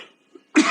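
A single abrupt cough bursts out after a short quiet pause, close and fairly loud, preceded by faint breath.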